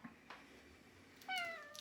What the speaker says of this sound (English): It's a big old cat.